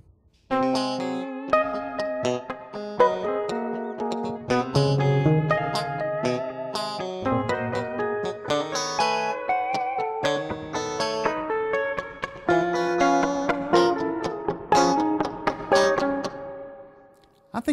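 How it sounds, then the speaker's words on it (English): Layered electric guitars play plucked melodic lines and chords drenched in a wide, lingering reverb wash, sustained and spacious throughout. "I wanted to make it obvious what the reverb is doing to these guitars."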